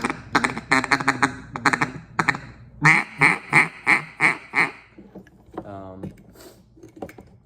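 A JT double reed duck call blown in a quick run of rhythmic, nasal quacks, loud and close, ending in a drawn-out, falling note.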